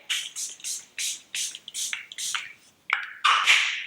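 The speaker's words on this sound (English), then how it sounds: "I do the Airbrush Flawless Setting Spray. I do it now." Airbrush Flawless Setting Spray: a series of short pump-spray bursts, about nine quick hisses in a rhythmic run, close to the microphone, followed by two slightly longer sprays.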